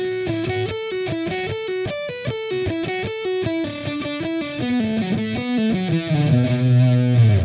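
Heavily distorted electric guitar plays a fast double-picked phrase from a thrash metal song, with rapid palm-muted low-string notes, a slide down the neck and ringing chords at the close, loud and alone.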